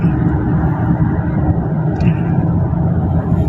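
A Toyota 2GD-FTV 2.4-litre diesel engine running while the vehicle drives, a steady low rumble with road noise, constant and close from start to finish.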